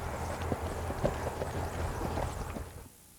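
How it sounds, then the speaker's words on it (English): A Tennessee Walking Horse ambles along, its hooves clip-clopping in a steady, even beat at moderate distance before the sound drops away near the end. "this horse kind of right now is just kind of ambling along"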